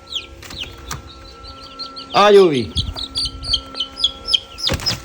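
Small chicks cheep in quick, high, overlapping peeps as they are let into a newspaper-lined box, with a voice calling to them partway through and a loud chirp burst near the middle.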